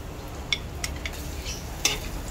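Ginger and garlic sautéing in a pan, cooked as aromatics for pork with chili pepper: a steady low sizzle with stirring scrapes and a few sharp utensil clinks against the pan.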